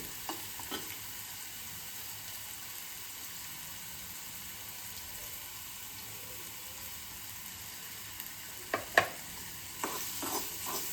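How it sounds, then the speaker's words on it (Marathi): Makhana vegetable with peanut powder being sautéed in a pan, a faint, steady low sizzle with a few soft spatula clinks and scrapes near the end, quiet and close, no talking. "आणि हा आपण असा थोडा परतून घेणार आहे मऊ झाला पाहिजे"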